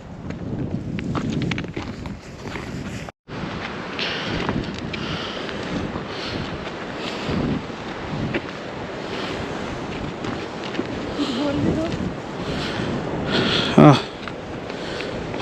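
Strong wind at high altitude on the mountain trek to Gaumukh near the Gangotri glacier, a continuous buffeting roar hitting the microphone with gusts rising and falling, under occasional voices.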